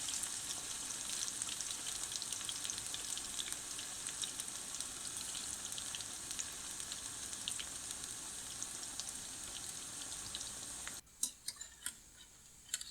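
Steady, dense sizzling of pakoras frying in hot oil fills most of the clip, then drops away to a quieter crackle with a few sharp pops near the end.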